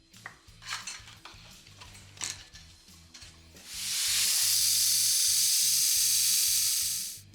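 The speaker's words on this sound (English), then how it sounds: "Over on the handheld lathe, I'll just cut this until it looks nice and sharp." Handheld lathe spinning a scribing tool tip against 36-grit abrasive, a loud steady hissing grind that runs for several seconds after earlier light clinks and taps, no speech.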